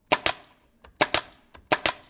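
A nail gun fires into thick interior door trim in three quick pairs of sharp, loud cracks, each double shot close together, with short pauses and a faint click between bursts.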